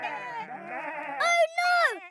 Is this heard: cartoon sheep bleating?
yes